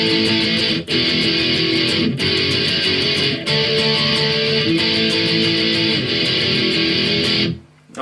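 Distorted electric guitar plays the bridge of a song in dense, sustained power chords with brief breaks between phrases, loud and close, ending with a short cutoff near the end.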